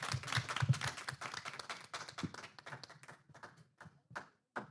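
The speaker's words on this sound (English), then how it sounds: "Round of applause for Ian." A small crowd at an afternoon panel program claps, dense at first, then thinning to a few scattered claps that trail off.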